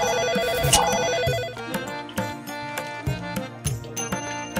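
A phone rings with a bright electronic ringtone, repeating tonal chimes and rhythmic beeps that sound close and clear, with no talking over them.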